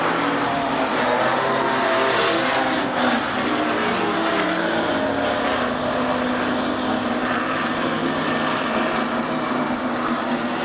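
Super stock race cars roar around Rockhampton Speedway, a dense continuous engine drone with several cars blending together, loud and sustained for about ten seconds without a break.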